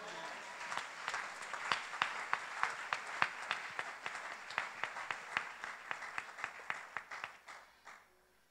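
A church congregation claps together to acclaim the Lord during worship: a steady run of sharp, fairly rhythmic hand claps over a soft crowd wash, easing off and fading out near the end.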